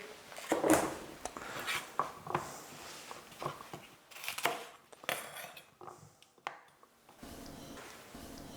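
Chopped celery goes into a cooking pan amid irregular scrapes, soft thuds and rustling clatter from close by, the bursts uneven and moderately loud with brief pauses between them.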